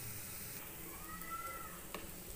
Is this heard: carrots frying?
yes